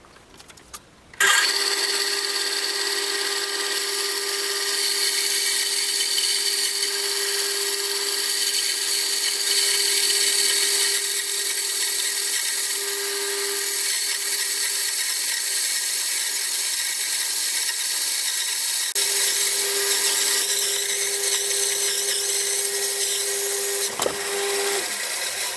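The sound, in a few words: tabletop bandsaw sawing a small maple log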